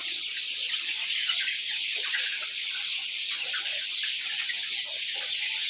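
A flock of 40-day-old brown cock chickens clucks and chirps continuously under a steady high hiss, with soft overlapping calls throughout and no talking.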